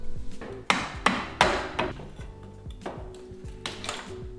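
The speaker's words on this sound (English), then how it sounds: "And time to start taking out the trims." Sharp knocks and prying thuds as floor trim pieces are pulled off in a laundry room, several distinct impacts close by followed by fainter scrapes and taps.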